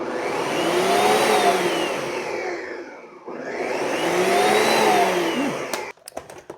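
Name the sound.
blender spinning kraut dip with olive oil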